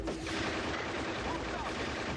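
A Particle Beam Cannon fires in the Shadow the Hedgehog video game, a dense, continuous blast of broadband roaring noise that stays loud and unbroken for about two seconds.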